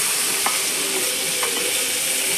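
Asafoetida water hits hot oil with green chillies in a pan, giving a loud, steady, close sizzle with a couple of faint clicks from stirring.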